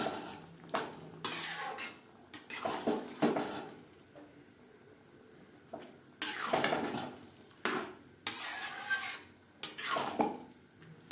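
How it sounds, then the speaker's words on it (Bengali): Dal being stirred with chicken and spices in a pot, spoon scraping and clanking against the metal in irregular bursts separated by quieter gaps, close and fairly faint. "চিকেন ও মশলার সাথে ডাল বেশ ভালো করে মিক্স করে দেবো"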